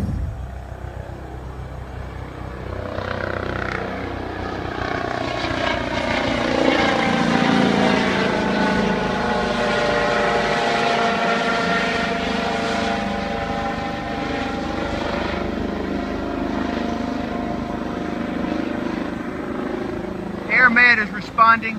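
An air ambulance helicopter's thudding rotor and engine drone build and swell overhead, staying loud for a long stretch, with a brief clatter at the end.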